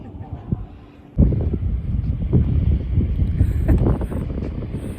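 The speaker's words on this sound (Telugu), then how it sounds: "చల్లటి గాలి వస్తుంది" Cold wind blows strongly across the microphone at the Hoover Dam, a deep rumbling gust that buffets steadily after a brief quieter moment.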